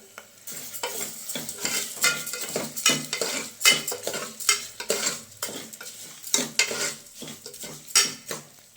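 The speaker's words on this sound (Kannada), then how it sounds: "ಅದನ್ನು ಸ್ವಲ್ಪ ಫ್ರೈ ಮಾಡಿಕೊಂಡು ಸ್ವಲ್ಪ ರೋಸ್ಟ್ ಮಾಡಿಕೊಂಡ್ರೆ ಚೆನ್ನಾಗಿರುತ್ತೆ" Green gram frying and roasting in a pan, with busy stirring, utensil clatter against the metal and a steady sizzle underneath, close and uneven in loudness, with no voices.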